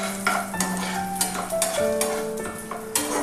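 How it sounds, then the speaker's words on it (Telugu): Cashews and raisins frying in ghee for semiya kesari, steady sizzling with repeated metallic taps and scrapes of a stirring spoon against the pan, close by and without speech. "జీడిపప్పు కిస్మిస్ బాగా ఫ్రై అయ్యాయి."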